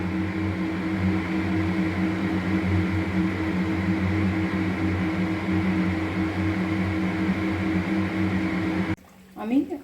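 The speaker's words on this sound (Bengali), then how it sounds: "আমি খাজাগুলো ভেজে নিচ্ছি এবং গ্যাসটা আমি কিন্তু সেই লো ফ্লেমেই রেখেছি" Khaja pastries deep-fry in oil over a low gas flame, giving a steady, even sizzle close by that cuts off near the end.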